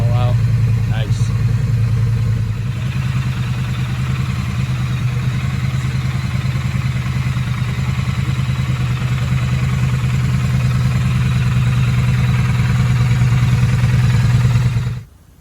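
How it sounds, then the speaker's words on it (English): A motorcycle engine idles steadily nearby while warming up, a loud, even low rumble that runs unbroken for the whole stretch before cutting off abruptly at the end. "letting the bike warm up for about 5 to 10 minutes"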